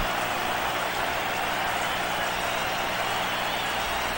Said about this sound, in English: Rain is beginning to fall as the players take the field for the kickoff.